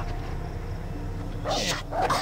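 Dogs in the game Far Cry 3 bark and yip a couple of times in quick succession over a low ambient game rumble, fairly near and moderately loud.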